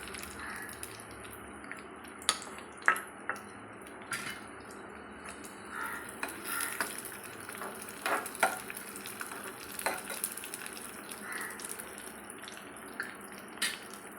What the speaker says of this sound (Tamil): பூசணிக்காய் அல்வாவில் நம்ம தாளிச்சதே இப்போ ஒன்றா சேர்த்துடலாம்